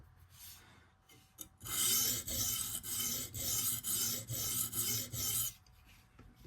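A Hapstone RS sharpening stone rasps along a knife blade in a run of about six quick, even strokes, each a bright gritty scrape, with quiet pauses before and after.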